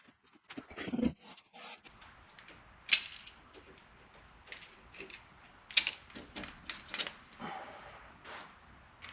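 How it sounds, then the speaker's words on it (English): Car jack lifting a Jeep, heard as irregular metallic clicks, ratcheting taps and clanks, some sharp and close, spread across a quiet background. "that's why I'm jacking both sides up."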